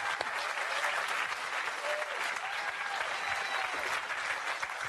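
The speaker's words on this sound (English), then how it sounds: "We applaud the magnificent actor inside." Sustained applause from a large audience, steady and fairly loud throughout, with scattered claps standing out from the dense wash.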